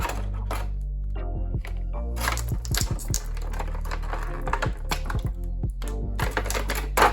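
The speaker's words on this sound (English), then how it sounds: "Let's get him out of his packaging." Stiff plastic packaging around a Hondo Ohnaka Black Series action figure is torn and pried open, giving a dense run of close, loud crackling, snapping and crinkling that carries on steadily with no talking.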